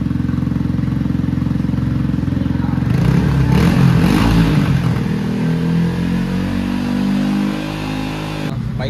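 Yamaha R15 V4 motorcycle engine on its stock exhaust after an engine seizure, running steadily close by with a low rumble that swells in a brief rev midway, then settles back to a steady idle.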